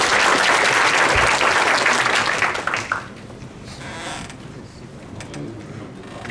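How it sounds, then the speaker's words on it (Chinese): Audience applause at a tech conference session welcoming a speaker, dense clapping for about three seconds that then drops to a quieter room with scattered claps and faint shuffling. "掌声欢迎 Ivan"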